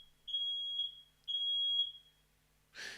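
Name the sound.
fire alarm beeping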